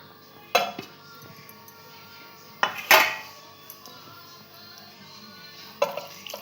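Clatter of a mesh strainer and bowl as grated potatoes are rinsed in a home kitchen, with a few sharp metallic knocks spread across a low background hiss.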